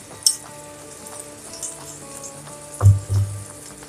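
Cumin and fennel seeds fry in a pan while tangy amchur chutney is added, giving a low sizzle under faint background music with a couple of sharper stirring clanks near the end.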